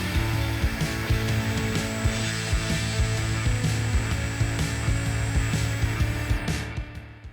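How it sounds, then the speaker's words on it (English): A power drill whirs continuously with a steady motorized hum and small bursts as the bit bores into wood, fading out at the end. "Let's go ahead and drill the holes that I have not drilled"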